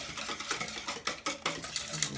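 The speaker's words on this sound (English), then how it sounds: "I'm going to beat up these wet ingredients" A hand whisk beats wet ingredients for zucchini fritters in a bowl, a close, quick rhythmic clatter and swish of wire against the bowl, with no talking.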